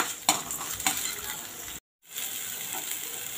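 Onions sautéing in a pan for a red pumpkin masala, a steady close sizzle with a few sharp scrapes from stirring, broken by a brief silent gap before the frying resumes.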